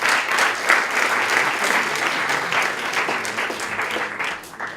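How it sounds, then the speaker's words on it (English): Sustained audience applause for the last finalist team at a startup pitch competition, a dense wash of clapping that holds steady throughout and eases slightly at the end. "Another round of applause for the third team and last finalist today, which is elo.bg."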